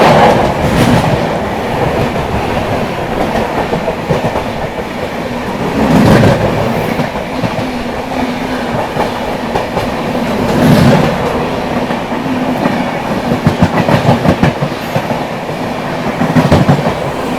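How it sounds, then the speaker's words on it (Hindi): Kamakhya–Delhi Brahmaputra Mail train rolling past close by, a loud continuous rumble with repeated clickety-clack wheel beats over rail joints and periodic heavier thumps as carriages pass. "अभी थोड़ी देर में जो है दोस्तों आने वाली है कामाख्या दिल्ली ब्रह्मपुत्र मेल"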